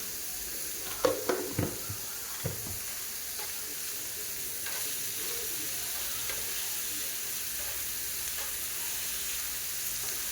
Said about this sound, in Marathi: म्हणजे कांदा लवकर फ्राय होतो